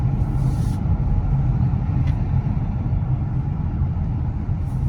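A Peugeot e-2008 electric car accelerates, heard as a steady broadband rumble of road and cabin noise with no engine note, holding even throughout with a couple of faint high ticks.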